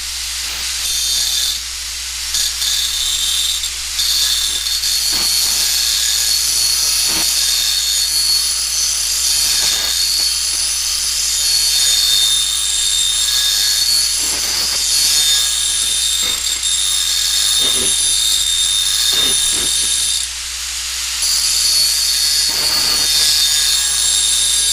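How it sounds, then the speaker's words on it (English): A grinder works the rough, broken edge of an aluminum propeller into a 45-degree bevel. The grind is a loud, continuous hiss that carries on for the whole stretch, broken only by a few brief dips. "we're going to grind the rough edge of this prop to a 45-degree angle on one side only."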